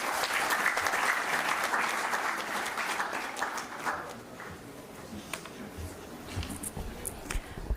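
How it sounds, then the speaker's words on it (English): An audience at a women's empowerment conference applauds for a speaker, a dense wash of clapping that is loud at first and then thins into scattered claps before fading out. "Please, a big round of applause for ma'am,"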